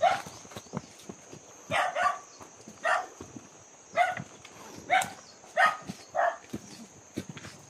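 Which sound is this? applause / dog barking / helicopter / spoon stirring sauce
dog barking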